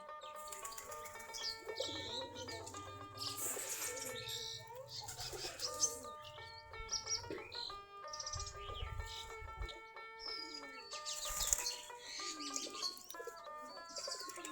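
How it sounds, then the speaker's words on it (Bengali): A flock of desi Giribaz pigeons, some forty pairs, coo softly around their loft, with scattered chirps and a few brief bursts of wing flapping spread across a quiet, continuous background. "এই যে খোপের কাছে বসে আছে কবুতর।"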